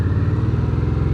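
A Harley-Davidson Sportster S 1250 motorcycle engine runs with a steady, deep, throbbing rumble, loud and close, with no speech over it.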